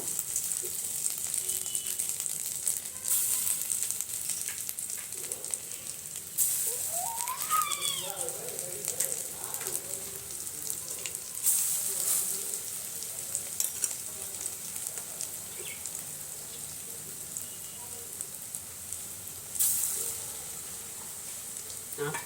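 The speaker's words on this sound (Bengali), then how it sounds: "এভাবে সব আঁচ কমে ভেজে নেব।" Food fries on low heat in a pan, giving a soft steady sizzle with occasional louder bursts, while a voice is heard faintly in the background.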